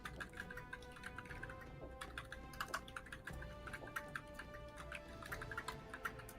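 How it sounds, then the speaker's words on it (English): Rapid, clattering keystrokes on a computer keyboard, typed at a frantic pace in dense bursts of clicks that run nonstop, close and steady, with no voices over them. "Ooh, it's typing like a madman right now."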